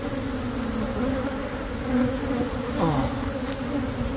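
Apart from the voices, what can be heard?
bees buzzing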